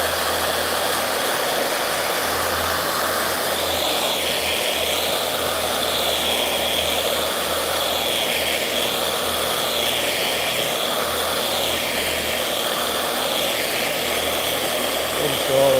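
A rotary polisher buffs the hood of a square body truck, a steady loud motor whine with slowly swelling pitch running continuously throughout, close to the tool.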